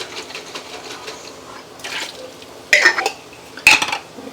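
A dish rinsed with a little water in a kitchen, soft swishing followed by two sharp clinks of utensils against the dish.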